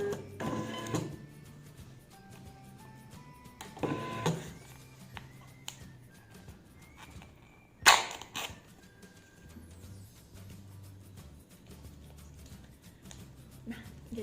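A TSC barcode label printer runs in short mechanical bursts, whirring and clicking as it feeds and prints a label, with quiet pauses between bursts and a sharp clack partway through, heard close up with no talking.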